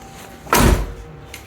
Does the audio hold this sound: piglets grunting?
no